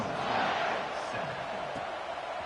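A stadium crowd roars in an American football video game before a kickoff, a steady, loud wash of distant cheering that holds for the whole moment and fades only slightly.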